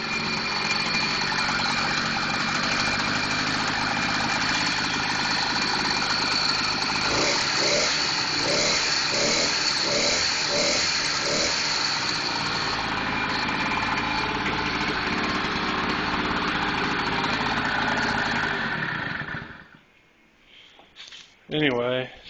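An 80cc motorized bike engine runs on its first start with a steady, throaty, buzzy drone that stays loud and close for most of the time, then drops away near the end.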